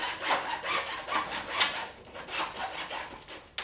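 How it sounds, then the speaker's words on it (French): A hacksaw cuts through a drain pipe, its rasping strokes repeating in a steady back-and-forth rhythm, close up with no one talking. "Vous pouvez le faire avec la meule, mais une scie à métaux est aussi une option."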